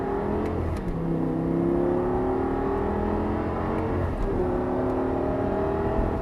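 An Audi R8 V10 sports car on a racing circuit accelerates steadily from close by, its pitch climbing through gears with a brief dip at a shift, no talking.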